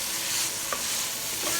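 Keto cauliflower fried rice stirred in a hot pan, a dense, even sizzle close up with a couple of soft utensil scrapes, no voices.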